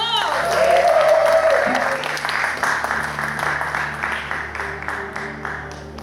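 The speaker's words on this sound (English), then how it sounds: "Can we give a round of applause?" An audience applauds, a dense wash of clapping that gradually thins out, with a voice briefly heard at the start.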